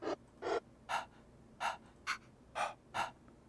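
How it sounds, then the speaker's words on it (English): Vocal breath sample triggered in a software sampler: seven short, sharp breathy gasps in a fairly even rhythm, each clear and close, separated by quiet gaps. "What is breath? Is it just somebody breathing?"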